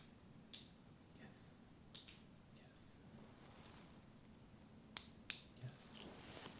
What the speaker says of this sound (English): So now I'm going to make a clicking sound